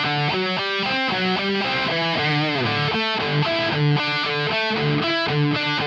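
An electric guitar played through an Electric Eye Audio Thrasher distortion pedal set for an 80s tone rings out clearly, with chugging chords and short melodic riffs in a quick, rhythmic pattern, heard alone.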